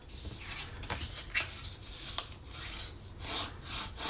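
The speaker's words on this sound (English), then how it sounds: "I'm looking for my bone folder because I want to burnish these edges really well before I cut." A bone folder burnishes paper edges in quiet, repeated rubbing strokes, a soft raspy scrape that rises and falls in uneven passes, close by and alone.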